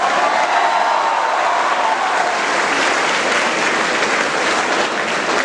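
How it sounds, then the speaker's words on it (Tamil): Dense, steady applause from an audience at a film teaser launch event, loud and sustained throughout without a break, no voices standing out. "இந்த இடத்துல நீங்க கைத்தட்டணும்"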